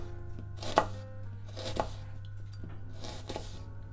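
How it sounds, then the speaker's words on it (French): A knife slices an onion into thin strips on a board, three distinct, crisp cuts spaced about a second apart over a faint, steady background hum. "vous voyez, on coupe des lamelles comme ceci"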